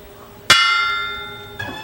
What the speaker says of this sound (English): going to ring the dinner bell for us